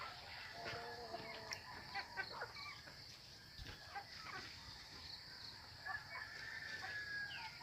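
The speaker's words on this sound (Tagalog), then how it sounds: "Magpapakain na naman tayo ng ating alagang manok." Farm chickens cluck and chatter during morning feeding, scattered soft calls from several birds at a moderate distance over a quiet outdoor background, with faint voices now and then.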